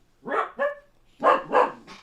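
A dog named Max gives a series of close, loud barks: two quick woofs, a pause, then two more with a fifth trailing off, with no talking over them.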